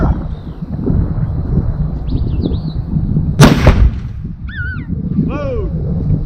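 A black-powder cannon fires once in a loud, sharp blast at a historical battlefield demonstration at Palo Alto, following a shouted command, with outdoor chatter and goose-like honks around it.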